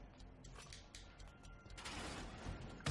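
Pump-action shotgun being reloaded in Resident Evil 7, a sequence of quiet mechanical clicks, shell insertions and ratcheting metal handling, close and isolated, ending in a sharper clack.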